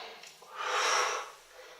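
A single long breath pushed out during a core-strength yoga exercise, a soft airy rush that swells and fades over about a second, close and alone.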